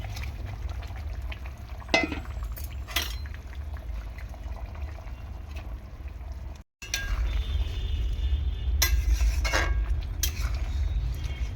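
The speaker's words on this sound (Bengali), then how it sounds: "এখন আমি মাছগুলো দিয়ে দেবো, এই ভেজে রাখা মাছগুলো দিয়ে দিচ্ছি" Fried mourola fish going into a pot of simmering himche greens curry, with a steady bubbling sizzle, a few sharp splashes and stirring clatters, and a brief drop to silence midway.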